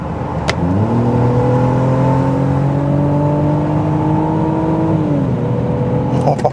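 Loud, close engine note of a BMW 5 Series pulling hard in third gear, a steady rising drone that climbs for several seconds before easing off near the end.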